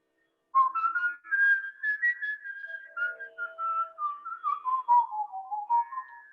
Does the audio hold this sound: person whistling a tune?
yes